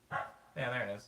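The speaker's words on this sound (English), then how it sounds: "It doesn't really sound like a dog, but that is the dog sound for this keyboard." Two short, synthetic bark-like tones from an electronic keyboard, a quick yip followed by a longer one, with a voice speaking briefly nearby.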